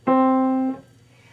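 A single piano note sounds once, held steadily for about one beat and then cut off cleanly, alone and close, with only quiet room tone afterward.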